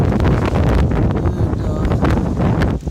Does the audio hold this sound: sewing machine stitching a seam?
no